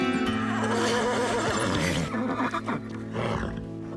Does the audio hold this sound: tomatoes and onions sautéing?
no